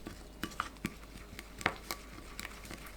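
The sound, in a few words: mixing soy sauce, lemon, honey, mayonnaise dressing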